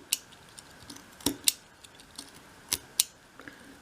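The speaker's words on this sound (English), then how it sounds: "Just using little snips, using the very tip of the knife" The very tip of a craft knife snips through card in small, sharp cuts, a handful of crisp ticks spaced irregularly over a quiet background.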